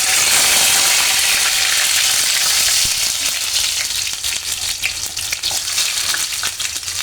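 Dry red chilies hit hot soybean oil with a loud, close, bright sizzle that roars at first, then breaks into spitting crackles and pops as it settles, with no talking.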